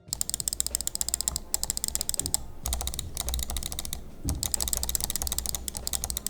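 A worn Logitech G703 mouse button clicked rapidly and repeatedly up close, dense bursts of sharp clicks broken by two short pauses.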